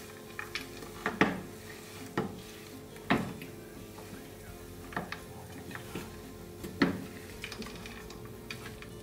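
Dates and dry fruits mixture being stirred in a pan off the flame, with a few soft scraping strokes and light clinks of the spoon against the pan at an uneven pace, close and fairly quiet.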